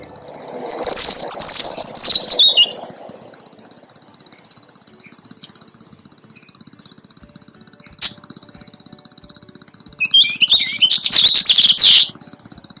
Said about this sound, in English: European robin.